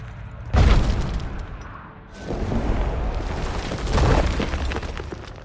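Heavy booms and crumbling blasts as stalagmites are destroyed in The Witcher 3: Wild Hunt, a loud impact followed by rolling rumbles and debris, with no talk over it.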